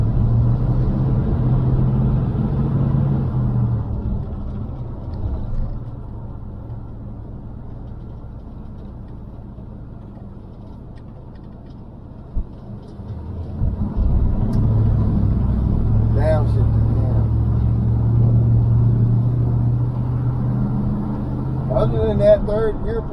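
Engine of a neglected Chevy C10 squarebody pickup truck running while driving, a steady low rumble throughout with a brief dip midway, heard from inside the cab while someone talks over it.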